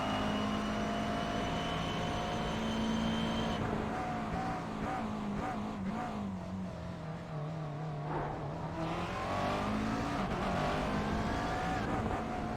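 Race car engine in the iRacing sim at the Nurburgring GP, its pitch swinging up and down through quick gear changes, steady and loud across the lap with a busy in-car roar.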